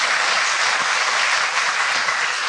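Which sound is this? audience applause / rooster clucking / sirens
audience applause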